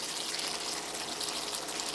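Water pours in a steady, continuous gush into a pan of simmering chicken curry gravy, heard up close and alone for about two seconds.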